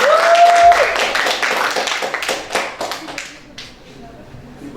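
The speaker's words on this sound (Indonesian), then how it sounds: "Mari kita tepuk tangan ya agar lebih semangat" Hands clap together in a classroom, a dense burst of applause at the start that thins into scattered claps and trails off, with a voice speaking over part of it.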